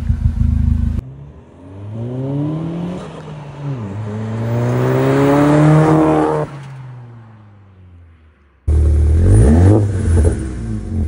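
Volkswagen GTI engine and exhaust, with a loud, deep idle at start and end, and a revving section in between where the pitch climbs and falls. No voices.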